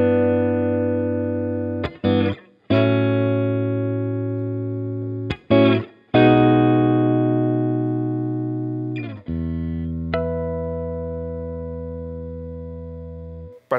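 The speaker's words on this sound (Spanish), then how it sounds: "Vamos a escucharla primero en tonos limpios." A PRS SE Custom 24 electric guitar with a zebra wood top played on a clean tone, sustained ringing chords separated by brief muted breaks, each slowly decaying, no talking.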